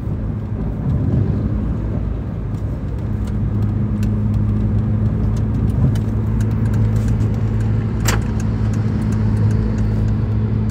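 A loud car with an aftermarket racing exhaust drones steadily and close by throughout, holding a deep rumbling tone, with no talking over it.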